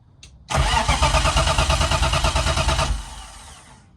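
A car engine in first gear cranks with a loud, rhythmic, pulsing churn for about two and a half seconds, then stops, leaving a fading hum.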